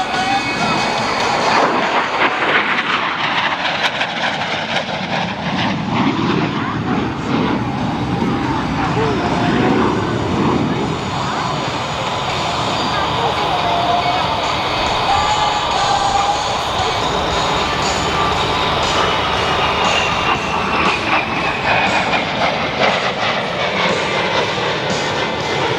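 A USMC AV-8B Harrier jet makes a high-speed pass at a military airshow, a loud sustained roar that swells and sweeps across over about twenty-five seconds with crowd and announcer talk mixed underneath.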